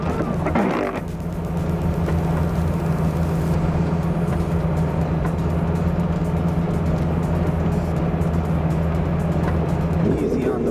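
A V10 Lamborghini with a gated manual shifter crawls through snow on non-winter tires, its engine holding a steady, close low drone throughout, with brief rougher bursts near the start and end.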